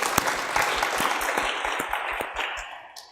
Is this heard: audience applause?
yes